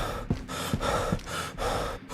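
A game character audibly gasps for breath after losing stamina, with repeated loud, close, rhythmic heavy inhales and exhales, roughly four breaths in quick succession.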